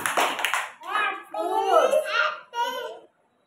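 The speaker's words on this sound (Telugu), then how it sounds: "క్లాప్స్ కొట్టండి." Young children in an anganwadi class clap their hands in a short burst of close claps, followed by children's voices talking and giggling.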